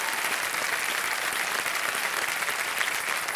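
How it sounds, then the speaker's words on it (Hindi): Loud, steady applause from a large studio audience at a televised quiz show fills the whole stretch without a break, a dense wash of clapping hands with no talk over it. "जोरदार तालियां बज जाए इनके लिए"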